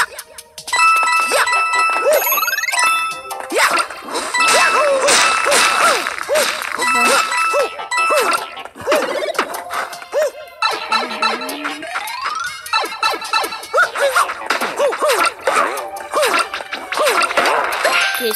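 Enemies in the Nintendo 3DS game Super Mario 3D Land make dying sounds amid a busy, loud run of bright chiming and dinging game effects with music, heard alone without talk.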